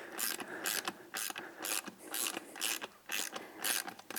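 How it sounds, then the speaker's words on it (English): A ratchet tightens beadlock wheel bolts in a star pattern, giving a close, rhythmic series of quick clicking bursts, about eight strokes in four seconds, with no talking. "we're going to work our way all the way around the wheel in the star pattern and just keep going"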